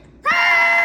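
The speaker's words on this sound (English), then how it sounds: "Give me screaming." A loud, sustained, high-pitched scream begins abruptly and holds steady to the end.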